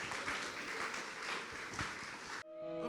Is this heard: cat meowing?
no